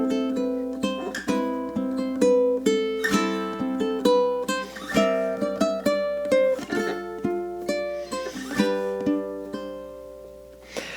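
Ukulele fingerpicking a gentle song theme, plucked notes ringing in a steady, even rhythm at moderate volume, played solo without any voice.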